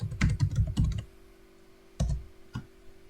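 Keys clack on a computer keyboard in quick clustered bursts, a flurry of taps followed by a pause and a few isolated presses, close and distinct with no speech.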